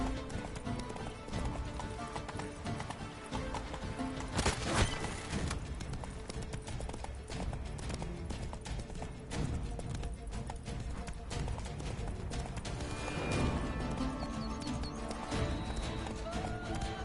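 Hooves clip-clop in a steady fast gallop as a horse runs in The Witcher 3: Wild Hunt, with occasional whinnies and game sounds, loud and continuous throughout.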